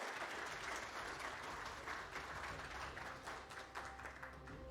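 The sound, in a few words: conference audience applause welcoming the Ukraine speakers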